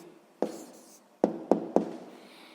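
A pen writes down a maths answer on paper in a quiet room, with four short sharp strokes or taps, one alone and then three in quick succession.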